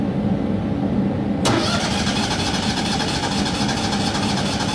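An old engine-driven welding machine, not an SA200, cranks and catches, its starter whir giving way abruptly to a loud, steady running engine close by.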